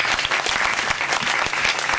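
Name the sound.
audience applause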